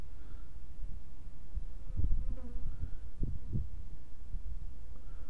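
A guard bee buzzes around a beehive, a faint, wavering drone that swells briefly as it passes near, over low outdoor rumble.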